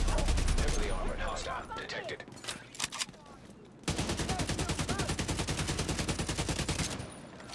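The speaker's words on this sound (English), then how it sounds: "Freaking minigun right there." A minigun in The Division 2 roars in long, rapid sustained bursts, a brief spurt early then a steady several-second stream of fire, loud and close amid game noise.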